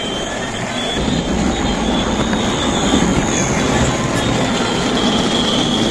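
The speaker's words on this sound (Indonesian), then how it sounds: "Kereta api Cocok Charlesnya jadi jalan" A Cocok Charles toy train, part of a multi-express set, runs along its track with a steady, continuous mechanical rumble and whir, close and fairly loud throughout with no pauses.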